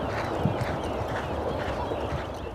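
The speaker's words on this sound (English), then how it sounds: "Every morning, they take the racehorses out onto the training track for a workout." Racehorses' hooves clip-clop over a training track in Cambridge, New Zealand, during a morning workout, a steady run of soft thuds under a broad outdoor hum.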